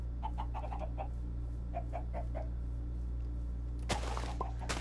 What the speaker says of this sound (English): Nope, that's an invincible chicken.